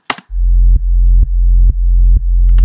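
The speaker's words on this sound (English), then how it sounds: "all it is a distorted sine wave which has been sidechained" A sidechained, distorted sine-wave kick bass in a big room style throbs loudly in a steady four-beat pattern, each deep buzzing note ducking and then swelling back, with short snappy clicks at the start and end.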